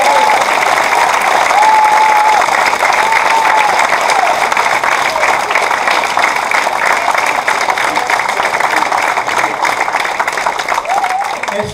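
An audience at a stage show applauds steadily and loudly, dense clapping from a large crowd with a voice audible through it, sustained throughout without a break.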